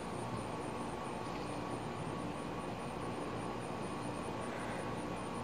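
An airplane flies overhead, producing a steady, unbroken broadband roar that stays at a constant loudness throughout with no voices.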